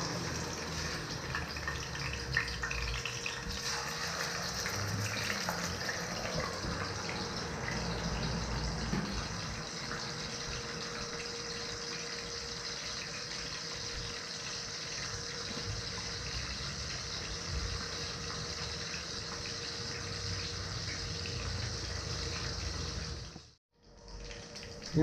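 Fish fries in hot cooking oil as a steady, dense, close sizzle that runs unbroken for about twenty-three seconds, briefly drops out near the end, then resumes.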